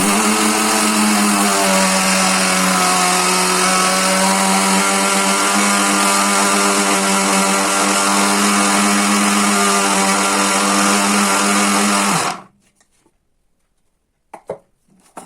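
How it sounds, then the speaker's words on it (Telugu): A mixie grinds sugar into fine powder for sunnundalu with a loud, steady, high-pitched whirring drone. It runs unbroken for about twelve seconds, cuts off abruptly, and a few faint clatters follow. "ఇప్పుడు షుగర్ కూడా సన్నగా మిక్సీ పట్టేసాం కదా"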